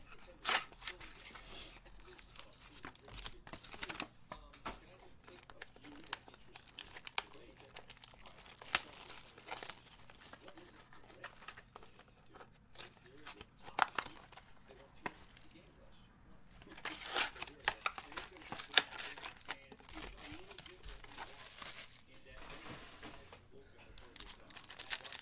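Football trading card box with six mini cards per box being torn open, giving soft, close crinkling and ripping of cardboard and wrapper in intermittent bursts over a quiet background.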